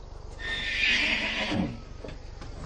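A horse in a Chinese movie gives a loud, shrill whinny lasting about a second and a half, followed by faint hoof clip-clops against a low background hum.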